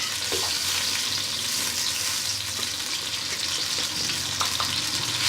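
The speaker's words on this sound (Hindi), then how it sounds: "अब हम इसमें दही डालेंगे।" Yogurt hitting hot oil in a karahi while making mutton karahi, giving a steady, loud, dense sizzle and frying hiss throughout, with a few faint clinks of a spoon against the pan.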